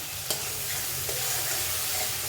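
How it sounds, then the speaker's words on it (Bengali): Spice mix of chili powder and a spoon of sugar sautéing in a pan before poppy seed paste goes in, a continuous sizzle broken by a few sharp stirring knocks of a spoon against the pan. "এবার খুব সুন্দর এটাকে কষিয়ে নেব দেন আমি সব পোস্ত পেস্ট দেবো"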